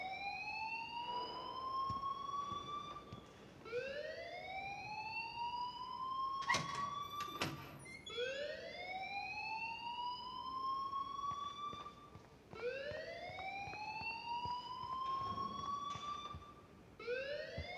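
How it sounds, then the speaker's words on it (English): An alarm in a school-set video game sweeps up again and again in long rising wails, loud and steady for many seconds, broken by a few sharp clanks, with no one talking. "please turn off that alarm since that's your job"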